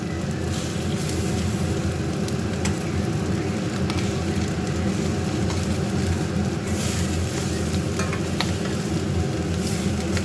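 Steady sizzling of lentil fritters frying in hot oil in a wok, a continuous crackling hiss with occasional sharper pops, no voices.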